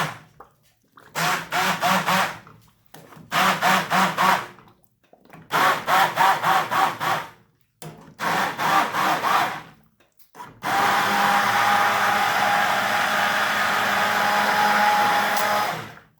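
A blender pureeing tomatoes for pasta or pizza sauce, running in four short whirring pulses separated by pauses, then one longer continuous loud blend, close up with no talk.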